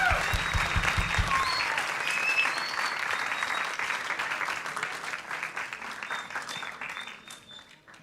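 Sustained applause from a large audience at a youth congress, dense clapping filling the space for several seconds before tapering off, with brief cheers mixed in.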